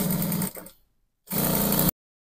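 Sewing machine running as it stitches the side seam of a kimono blouse with a 1 inch allowance, two loud steady bursts of motor whir separated by a short pause.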